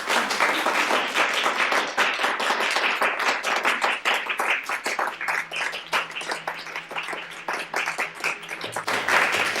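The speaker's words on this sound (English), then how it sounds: "The audience applauds." Audience applause after Stephanie's dance at a Christmas show, a steady wash of many hands clapping close by that thins slightly midway and swells again at the end, with no voices.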